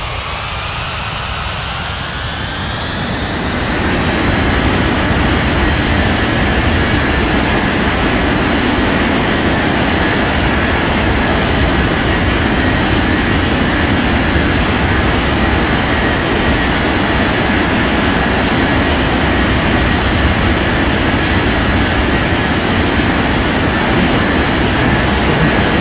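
Airliners landing and taxiing in the game Unmatched Air Traffic Control. A rising engine whine builds over the first few seconds, then settles into a loud, steady, close roar that continues throughout.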